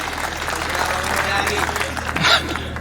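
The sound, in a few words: audience applause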